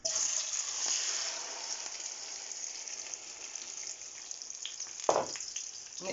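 Omelette mixture with kale, mushroom and turkey is poured into a hot pan and gives a bright, hissing sizzle that starts loud and slowly fades, with a brief clatter near the end.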